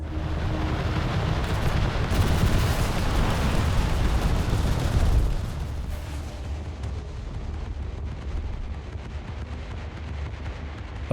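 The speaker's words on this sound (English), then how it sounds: "With fuel levels already low, the Ouragans fired all their rockets in a single pass." Ouragan jets fire their rockets at the Egyptian destroyer Ibrahim El Awal during the Suez War, a loud continuous roaring barrage of blasts that eases into a lower rumble after about five seconds.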